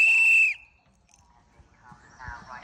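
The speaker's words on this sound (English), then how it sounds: "we blow the whistle" One sharp, high whistle blast for about half a second at a horse competition, clearing the course, then quiet with faint rustling and a brief low voice.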